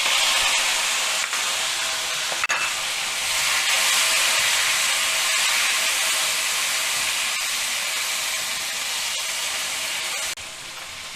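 Chopped tomatoes hitting a pan on a high flame, making a steady loud sizzle and hiss that runs throughout.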